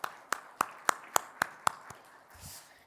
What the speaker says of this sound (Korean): 우리 다시 한번 하나님께 영광의 박수 올려드릴까요?